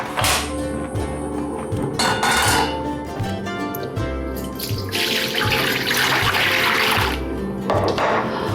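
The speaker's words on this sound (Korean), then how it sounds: "물은 1500 정도 넣습니다." Roughly 1.5 liters of water pouring into a wok for a spicy fish roe stew, a steady splashing gush close by with a few dull knocks, and no one speaking.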